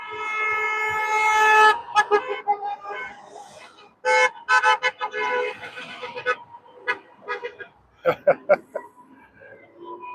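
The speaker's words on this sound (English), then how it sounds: "Keep the honking going." Car horns honk at an Axe The Tax street protest in Durham, Ontario: one long loud blast, then a series of short and sustained toots from several vehicles, close by and separated by brief gaps.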